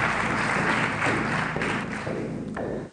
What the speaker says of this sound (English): Big round of applause, please, for Walter from Nearway.